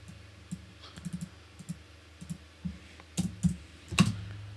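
Typing on a computer keyboard produces scattered single clicks and short bursts of keystrokes, close and fairly quiet, with a louder cluster of presses toward the end and no talk.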